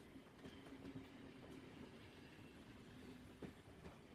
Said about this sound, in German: hört sich der Zug jetzt anders an als vorher?